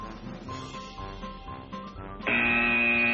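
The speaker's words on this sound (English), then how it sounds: "I've tempted someone into going on the buzzer." A quiz-show buzzer sounds at a school quiz competition, a sudden sustained electronic tone cutting in after a stretch of quieter background hum and lingering to the end.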